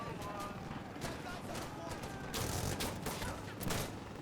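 Dense gunfire in the video game Insurgency Sandstorm, with rapid overlapping shots and bursts that continue throughout at a loud, close level, while players talk over it.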